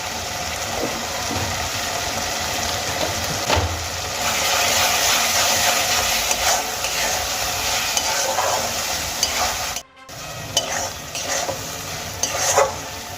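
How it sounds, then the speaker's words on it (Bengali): Fenugreek greens frying with spices and turmeric in a pan for Bengali methi dal, a loud continuous sizzle with frequent spatula scrapes and stirring knocks, briefly cut to silence before resuming. "মশলার সঙ্গে মেথি শাক কিন্তু আমার খুব ভালো করে ভেজে নেওয়া হয়ে গেছে"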